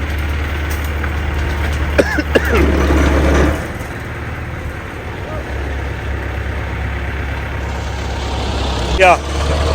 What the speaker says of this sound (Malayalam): ഒരു വണ്ടി വലിച്ചു കയറ്റിക്കൊണ്ടിരിക്കുകയാണ്